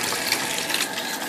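Tap water runs steadily while raw pork roast is rinsed in a kitchen sink, a continuous close splashing hiss with no pauses or speech.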